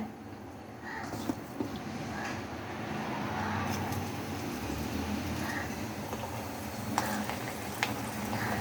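Cauliflower pakoda batter fries in hot oil with a continuous low bubbling sizzle that swells slightly after it starts, with a few faint taps and clicks over it and no voice.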